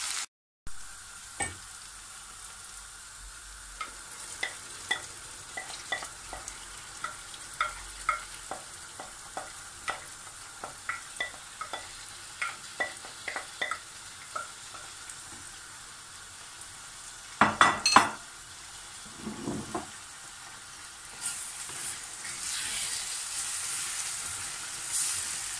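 Rice is sautéed in a hot pan, a steady sizzle under repeated scraping stirs from a spoon knocking against the pan, with a sharper burst of clatter and louder frying toward the end.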